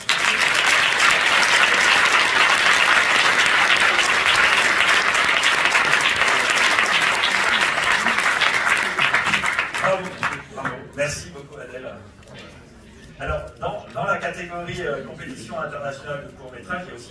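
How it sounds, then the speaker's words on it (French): An audience at the closing ceremony of the FEFFS 2024 film festival applauds a short film award, a long dense burst of clapping that fades into a presenter speaking. "Pour le court-métrage, on peut applaudir."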